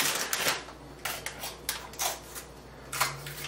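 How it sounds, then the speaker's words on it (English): A series of sharp snipping clicks from kitchen scissors cutting through small peppers, irregularly spaced with brief pauses, close by. "using the kitchen scissors to chop these up"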